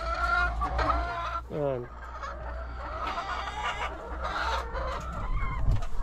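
Backyard chickens clucking and cackling close by, with a steady low hum underneath and a brief word spoken over the birds.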